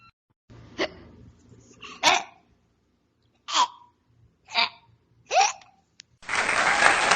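A voice imitates hiccups in an English-vocabulary lesson for children: five short, sharp vocal bursts spaced about a second apart, then a burst of broadband noise at the end.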